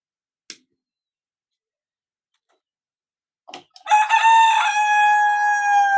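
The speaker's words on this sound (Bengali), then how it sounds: "অনেক শখের মুরগি" A few short clucks, then a loud, drawn-out crow from a Chinese chicken close by, ringing for about two seconds; no talking.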